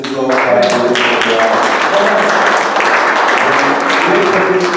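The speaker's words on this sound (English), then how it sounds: "can we all applaud everybody?" Audience applause fills a county commissioners debate in Northumberland County, a steady wash of clapping that runs the whole stretch while a voice talks over it.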